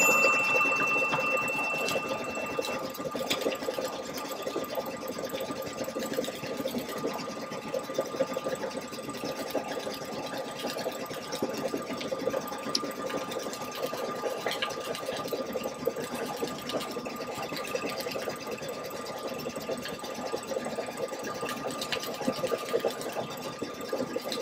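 A sewing machine stitches a Thanksgiving hot pad design, running steadily with a continuous fast mechanical whir and rattle, close and even throughout with no talking.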